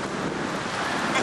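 Ocean surf on a Nova Scotia shore, a loud, broad continuous wash of waves mixed with heavy wind buffeting the microphone, steady with no talk.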